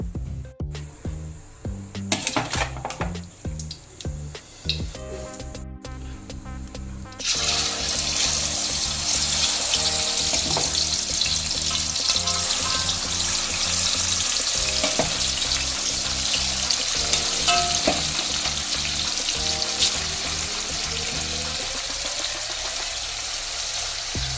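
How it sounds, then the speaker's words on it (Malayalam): Chicken pieces deep-frying in hot coconut oil for a Kerala-style chicken roast, a loud steady sizzle and bubbling that swells sharply after a quieter start with clinks, continuing densely throughout with no talking. "നമുക്കിനി ചിക്കൻ വറുക്കാൻ വേണ്ടിയിട്ട് വെളിച്ചെണ്ണ ഒഴിക്കാം"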